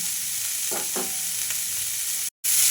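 Spiny gourd (kakrol) frying with onion in a pan over low gas, a loud, steady close sizzle with a couple of soft clatters early on and a brief cut to silence near the end.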